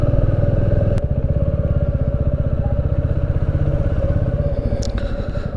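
A motorcycle rides over a badly broken mountain road on the way to Kasol, its engine thrumming loud and steady up close with a rattling clatter and a couple of sharp knocks.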